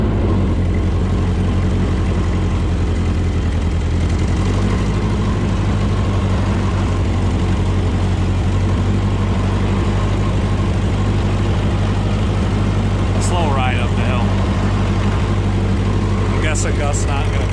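Loud, steady low drone of a Ford 8N tractor engine climbing a snowy hill, heard up close with a slight change in pitch partway through and brief higher sounds near the end, while someone talks.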